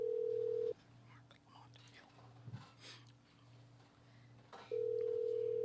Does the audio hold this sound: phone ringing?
yes